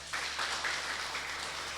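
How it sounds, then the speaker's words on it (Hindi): A seated audience at a spiritual healing session gives a brief, hearty round of applause for doctors, many hands clapping evenly at moderate distance. "मैं चाहता हूं सभी डॉक्टर लोगों के लिए एक जोरदार ताली हो जाए"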